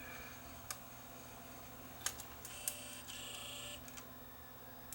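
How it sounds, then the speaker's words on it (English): 8mm camcorder tape loading mechanism with its small motor running, faint close mechanical whirring with scattered light clicks and ticks over a low hum. "The camera will then go through the proper loading procedure."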